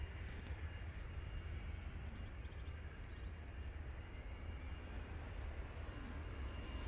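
easyJet airliner beginning its takeoff roll at Manchester Airport, a distant, steady low engine roar that stays even throughout, faint under broad rumbling background noise.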